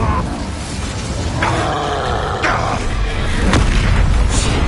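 Spell blasts in a Harry Potter video game bring booming explosions and crackling fiery bursts, several loud hits in a row over a continuous roaring rumble.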